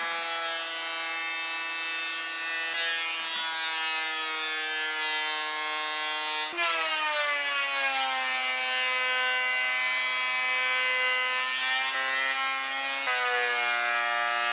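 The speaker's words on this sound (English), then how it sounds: "Then I bring the boards almost down to final thickness using the planer." Thickness planer running on wooden boards for a bookshelf, a loud, steady whine close by that dips and pitches up as a board feeds through partway.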